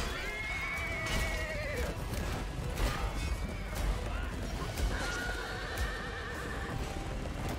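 A horse in the medieval combat game Chivalry 2 neighs and whinnies twice amid clip-clopping hooves and the dense clash of battle, with voices audible in the mix.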